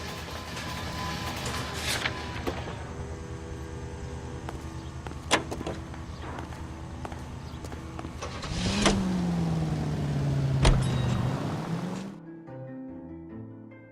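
A car driven through Los Angeles in the game L.A. Noire: a steady engine hum and road noise for about twelve seconds, with a few sharp knocks and a rising whine near the end before it cuts out.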